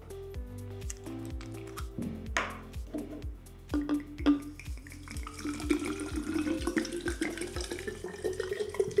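Water splashes and trickles into a container with dripping, gurgling sounds and a few light clinks, close by, with a steady rhythmic tone underneath.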